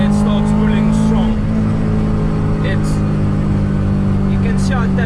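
A Honda Civic with a B20 VTEC engine pulls hard from inside the cabin, a steady loud drone rising toward high revs, with a person talking over the engine noise.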